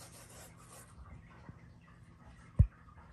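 Dry spice rub being worked by hand onto a rack of ribs before smoking in a homemade propane-tank offset smoker, a soft continuous rasping rub up close with one sharp knock near the end.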